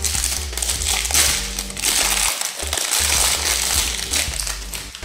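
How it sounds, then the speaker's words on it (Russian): Plastic packets from an LOL Confetti toy crinkle and rustle as they are torn open, with continuous crackly handling noise close by and a low background hum, no clear talk. "Ну открывай пакетики."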